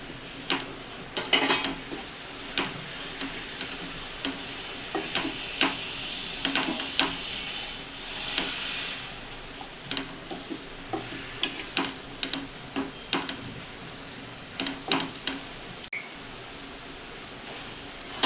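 Fried vadis stirred into a curry seasoned with kasuri methi, a steady sizzle broken by frequent sharp scrapes and knocks of a spoon against the pan, close and fairly loud.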